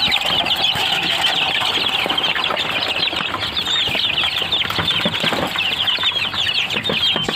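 Chicks being fed ground boiled corn cluck and cheep continuously in a dense, busy chorus, with faint scuffling and wing flutters close by, and no talking.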